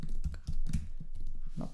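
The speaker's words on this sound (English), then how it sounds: "I hate my keyboard sometimes" Keys clatter on a computer keyboard while a React Query data-fetching example is being coded, a quick run of close, uneven clicks over about two seconds with no talking.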